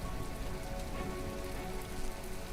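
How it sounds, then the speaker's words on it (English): Rain in the video game From The Depths falls as a dense, continuous hiss of drops striking surfaces, steady and even throughout with no talk. "Oh, it's going to start raining."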